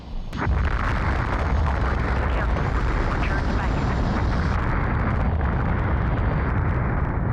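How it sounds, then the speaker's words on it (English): A frigate blows up in the space combat video game Colony Wars, starting with a sharp blast and then a loud, dense, sustained roar of rumbling debris that runs unbroken for several seconds. "But since this is pretty easy to do, we are going to explode it."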